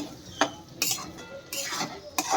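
Coconut, potato and chickpeas being stirred and fried in a pan for a Bengali banana flower curry, with a few distinct clinks and scrapes of a spoon against the pan at irregular intervals over a faint background.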